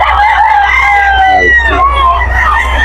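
A young stag rooster crows loudly and close at a Bocaue pet market, one drawn-out call falling in pitch and then a shorter second one, with market voices underneath.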